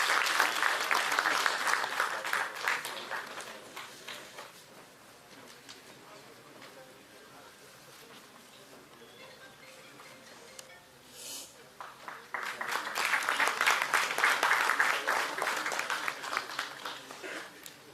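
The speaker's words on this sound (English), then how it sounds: "Please give a huge round of applause to the madam." Applause from an audience at a university law faculty valedictory ceremony, a loud burst at the start that fades into a quieter stretch with faint voices, then swells again into sustained clapping.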